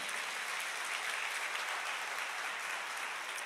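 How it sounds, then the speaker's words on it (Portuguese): A church congregation applauds steadily and evenly throughout, a dense wash of clapping at a moderate distance with no voices rising above it. "vamos aplaudir ao Senhor"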